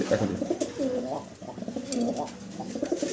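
Pigeons coo steadily in a loft, a dense, overlapping chorus of low throaty warbles close by with faint background activity.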